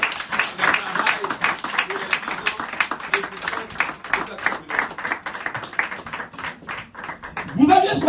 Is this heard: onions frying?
no